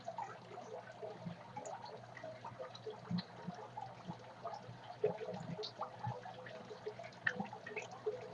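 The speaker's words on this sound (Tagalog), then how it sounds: "Kaya, punuin ko lang ng tubig." Tap water runs and trickles into a container to fill it, a faint, continuous splashing with small drips and knocks.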